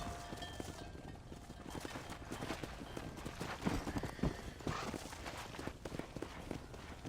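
Steady clip-clop of horse hooves trotting in the video game Red Dead Redemption, close and continuous, with a faint wash of background ambience and no talking.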